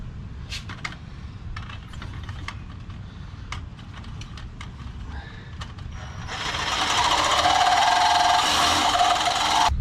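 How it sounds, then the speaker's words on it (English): Sawzall reciprocating saw cutting through the crash bars of a 2015 Ford F150, a loud rapid buzzing rasp that starts after several seconds of faint clicks and handling noise, then runs steadily to the end. "go ahead and cut right alongside here with my Sawzall"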